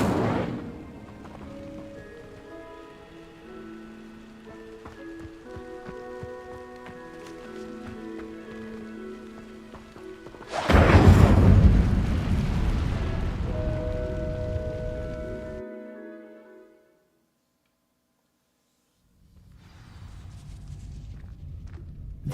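The Incendio fire spell in the video game Hogwarts Legacy sets dry vines alight, a sudden loud whooshing burst followed by a crackling, roaring burn that fades to silence, over a soft musical background.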